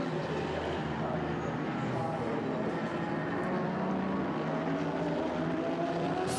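A Porsche race car enters pit lane during the Nürburgring 12-hour race, its engine a steady, loud, unbroken roar that fills the whole stretch with no break in intensity.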